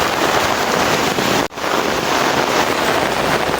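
Heavy rain on Eid day pours as a loud, continuous broadband wash with a brief dip partway through, no talk.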